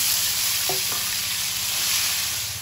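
Tomato tossed into a hot pan of oil with panch phoron, ginger and whole green chilies sizzles steadily and loudly, with a couple of quick scrape-and-stir sounds early on.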